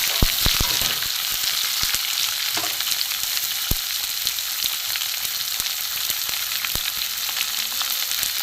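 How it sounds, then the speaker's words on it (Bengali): Ridge gourd peels frying in a pan with garlic, black cumin and green chillies, giving a steady, loud sizzle broken by sharp crackles and the occasional clatter of stirring. "এটা একটু ভালো করে ভেজে নেব।"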